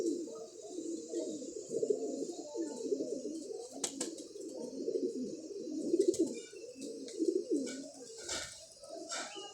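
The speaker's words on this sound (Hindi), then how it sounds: "ये कबूतर भाईजान क्रासों में से कबूतर है।" Pigeon cooing close by in repeated soft, throaty phrases, with faint chirps and light background noise.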